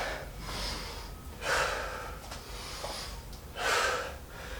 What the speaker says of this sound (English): Nice rhythm to the breathing.